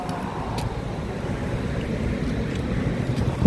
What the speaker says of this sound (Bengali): খুব হাওয়া, একদম ঠান্ডা হাওয়া।